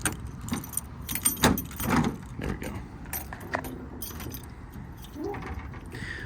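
Keys jangle and click in compartment latches on a 2019 Kenworth T370 crane truck, a run of close metallic rattles and clacks over a low background rumble, with no talk.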